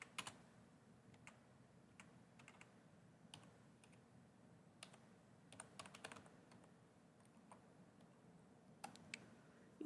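Someone types a query on a computer keyboard, with quiet, irregular clicking keystrokes falling in short bursts and scattered single taps over a faint hum.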